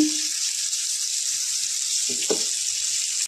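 Hot oil sizzles steadily in a pan, ready for frying potato for a Bengali prawn and bhaja-style dish, with a bright continuous hiss and a couple of soft clinks near the end.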